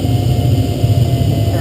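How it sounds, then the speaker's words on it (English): While a glider is towed, the tow plane's propeller engine drones loudly and steadily from ahead, a constant low hum with wind noise throughout. "I'm not having to do very much to follow the tow plane."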